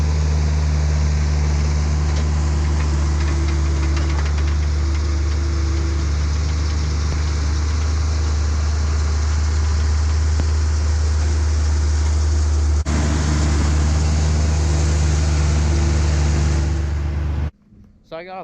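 Tractor raking fourth-cutting alfalfa hay in a field: a continuous low engine drone with mechanical rumble runs steadily throughout, close and loud, then cuts off near the end.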